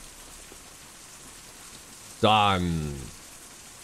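Steady rain falls in the survival game Out of Reach, a soft continuous hiss of drops on surfaces throughout, with a single brief spoken word cutting in near the end.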